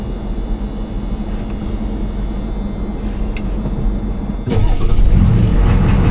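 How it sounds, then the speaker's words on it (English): A Ford truck's engine cranks under a steady interior hum and then catches about two-thirds of the way through, settling into a louder, rumbling idle up close. "Let's go ahead and start the truck up."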